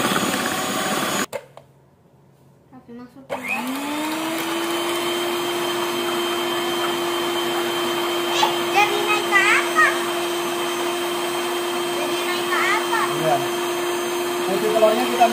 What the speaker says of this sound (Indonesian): Telurnya kita mixer ya.